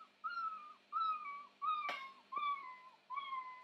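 Cartoon cat meow sound effect from a Scratch programming project, repeated five times in an even rhythm, each a short clean synthetic meow, with a brief click partway through.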